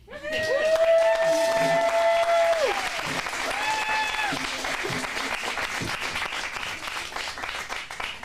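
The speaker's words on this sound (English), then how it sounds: "let's give one more round of applause for Italy with the in-laws, everybody" Loud applause with some cheering rises from an acting-studio audience after a comedy sketch, while a tonal, sung or whooped voice rides over it early on, then the clapping slowly thins out.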